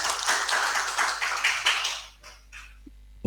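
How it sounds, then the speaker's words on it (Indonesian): Audience applause at an event held by the Ministry of Religious Affairs office in Tegal city, a dense burst of clapping for about two seconds that fades to a few scattered claps before a brief thump. "Kasih tepuk tangan loh Bapak Ibu."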